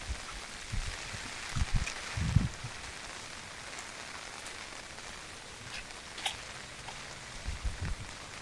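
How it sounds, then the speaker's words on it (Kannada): Heavy rain pours during a flood at the temple grounds in Bhagamandala, Kodagu, falling onto an umbrella. It makes a steady, even hiss, broken by occasional low patters and thuds close by. "ಮಳೆಯಲ್ಲಿ ಕೊಡೆ ಹಿಡ್ಕೊಂಡು ವಿಡಿಯೋ ಮಾಡ್ತಾ ಇದ್ದೀನಿ."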